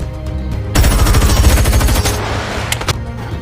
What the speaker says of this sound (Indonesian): tembak menembak.